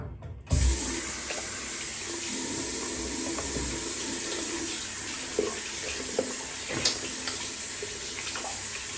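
Tap water runs steadily into a sink, a continuous close hiss and splash that starts abruptly and carries small clinks and drips throughout.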